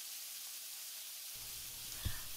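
Shrimp sizzle in a frying pan as a steady, faint hiss, with a short crackling burst of oil as another piece is laid down near the end.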